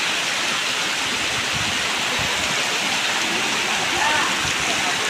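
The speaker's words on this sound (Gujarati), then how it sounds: "પાણી બહુ ફોર્સ છે ભાઈ" Strong, forceful rushing water roars in a steady, dense wash of noise that fills the whole clip at close range, with no break in its loud rumble.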